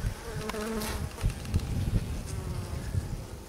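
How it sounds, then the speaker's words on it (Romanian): Honey bees buzzing in a hive's front chamber, a dense steady drone close by with individual bees whining past over the constant hum. "Sigur că avem albinuța."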